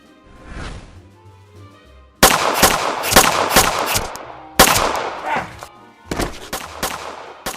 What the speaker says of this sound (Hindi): आरव और उसके आदमी आलिया पे फायरिंग शुरू कर देते हैं।